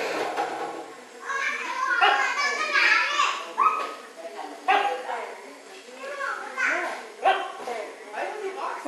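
A small dog barks and yips in short bursts amid the chatter and shouts of children playing nearby in Thailand.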